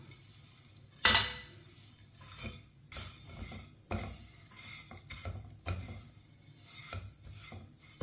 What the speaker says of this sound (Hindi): सेवियों को 2 मिनट के लिए हल्की सी आंच पर भून लेंगे।